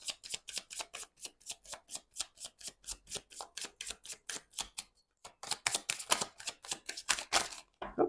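Tarot cards are shuffled in quick rhythmic riffles, a steady series of crisp close flicks that pauses briefly and then resumes faster and louder.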